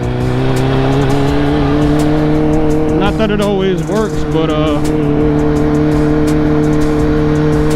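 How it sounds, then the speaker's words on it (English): A car's deep, loud exhaust rumbles steadily as it drives, revving briefly midway, while someone talks over it. "It's another reason why I like to have a pretty loud exhaust."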